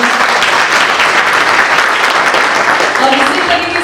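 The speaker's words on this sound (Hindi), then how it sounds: "एक बार सर के लिए वापस से जोरदार तालियां बजाएं" Audience at a live stage event breaks into loud, sustained applause, a dense wash of clapping that fills the whole stretch at steady intensity.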